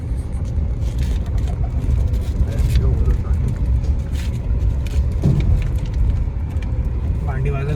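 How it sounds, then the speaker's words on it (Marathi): A car driving off-road along a rough farm track, with a continuous loud engine and road rumble, occasional knocks and rattles, and people talking over it. "तर आतमध्ये ऑफरोडला गाडी टाकली आहे"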